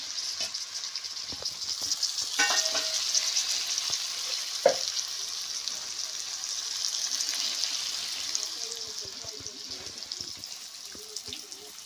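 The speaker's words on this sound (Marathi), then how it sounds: "व्यवस्थित परतून घ्यायचे, म्हणजे हलवून घ्यायचं आहे त्यांना." An elderly woman sautés vegetables with peanuts in a pan on a wood-fired stove, producing a soft, steady sizzle broken by spoon scrapes and a few sharp clinks as she stirs.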